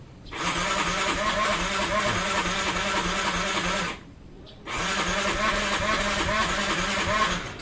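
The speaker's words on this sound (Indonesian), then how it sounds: "Nah motornya itu denging, tapi kita coba starter seperti ini" A Yamaha Mio Z scooter's electric starter cranks in two long bursts separated by a short pause, whirring loudly and steadily as the engine labours without catching after a piston block replacement.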